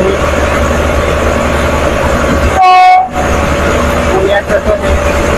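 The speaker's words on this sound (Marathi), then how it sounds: "आपण ट्रेनला ओव्हरटेक करतोय" A passing train runs alongside a crowded bus on the Latur to Yedshi route, giving one loud horn blast with rolling wheel noise. Bus engine rumble and cabin noise continue throughout.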